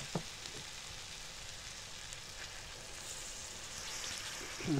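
Ground spices sautéing in a pan with a little water give a soft, even sizzle and hiss. A couple of faint stirring knocks come near the start and end, with no talk.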